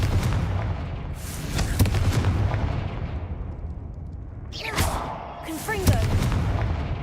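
Blasting-curse explosions from the Confringo spell in Hogwarts Legacy: several booming blasts land a second or more apart over steady game ambience, with brief vocal sounds among them.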